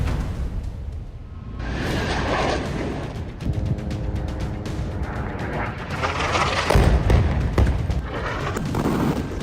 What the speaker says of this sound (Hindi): तीन मिसाइलें फटी और गाजा में बारूदी गर्द का बवंडर उठा।